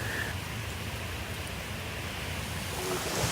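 Lake water laps against the shore in a steady, soft wash, mixed with a gentle wind, with no voices over it.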